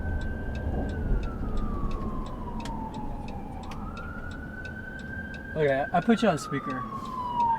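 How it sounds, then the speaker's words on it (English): A wailing siren slowly rises and falls behind steady road noise, growing nearer, while someone speaks briefly over it. "I got an ambulance coming up behind me."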